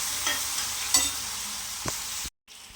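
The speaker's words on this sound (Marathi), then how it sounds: "हे बघा कांदा आता परतून घ्यायचा चांगला." Chopped onion sautés in a pan for a sprouted-bean usal breakfast dish, a soft steady sizzle with a few stirring scrapes, close and alone, ending in a brief cut to silence.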